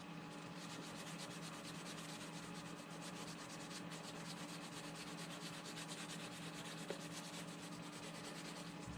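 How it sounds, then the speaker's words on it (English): Steady sanding along the edge of a plastic 1:350 Polar Lights USS Enterprise refit model saucer, a continuous close, even rubbing scratch for the whole stretch with no talk. "I don't want to sand much around the top part of the saucer at all"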